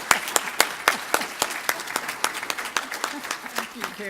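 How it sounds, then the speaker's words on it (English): Applause at a professional group psychotherapy association gathering in Houston, sharp, distinct claps from a smallish crowd, loose and irregular, with a faint voice underneath toward the end. "Let's give Pat a round of applause."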